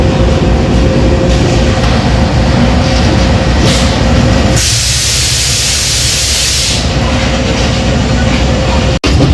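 Islamabad Express train pulling out of Rawalpindi station at six o'clock, a steady loud rumble of the moving carriages with a burst of hissing noise midway and a sharp click near the end.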